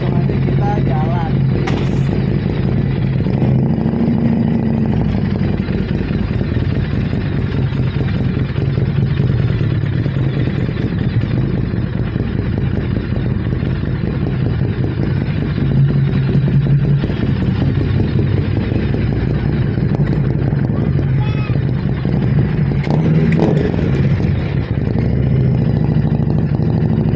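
A Harley-Davidson Street 500 motorcycle engine runs steadily, a deep continuous rumble heard up close and loud throughout, while someone talks over it.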